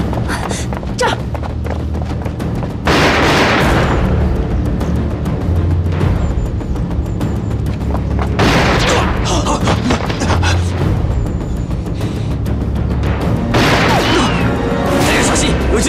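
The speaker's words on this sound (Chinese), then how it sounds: "大家小心，有狙击手！" Sniper gunfire in a film scene: a few heavy, sharp shots spaced several seconds apart, cutting through dense action noise and background commotion.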